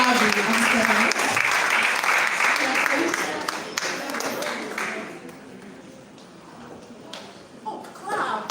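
A festival audience claps loudly in a dense, sustained burst as a speaker is welcomed to the stage, fading toward the end while voices talk through it.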